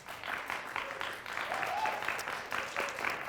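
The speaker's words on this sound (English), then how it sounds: "Keep the applause going for them." Audience applause with hoots and hollers at a Rockford Police versus Rockford Fire Department charity game, steady crowd clapping throughout at moderate distance.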